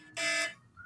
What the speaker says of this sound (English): Fire alarm here in the building.